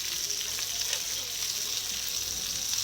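Butter lemon sauce with chilli flakes sizzles in a pan on a stovetop at low heat, a steady, close hiss of frying that holds evenly throughout, with no voices.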